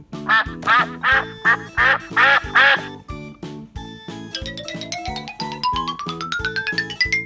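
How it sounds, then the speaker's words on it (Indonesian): A series of rhythmic duck quacks over a bouncy musical backing, followed by a rising run of bright tones. "bebek"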